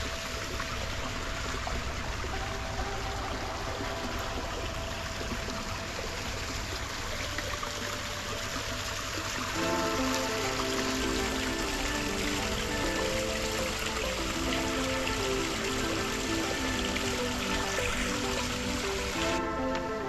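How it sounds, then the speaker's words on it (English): Resort fountains in St Lucia splash and trickle in an even, continuous wash of falling water. A tonal melodic sound joins partway through and runs under the water. "the soothing sound of the fountains creates a sense of tranquility"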